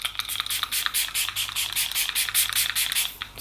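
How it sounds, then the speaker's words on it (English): Catrice Makeup Freezing Spray misted onto a face, a run of short hissing spritzes in quick irregular succession, close and fairly soft, with no talking. "this is Catrice Makeup Freezing Spray"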